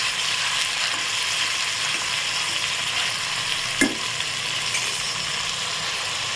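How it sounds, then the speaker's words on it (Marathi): Garlic-ginger paste frying in hot oil, a loud and steady hiss of sizzling with one brief metallic clink of a utensil partway through, heard close with no speech. "तेल गरम झालेले, त्यामध्ये हे लसूण अद्रकची पेस्ट घालून द्यायची। म्हणजे छान फ्राय करून घ्यायचं।"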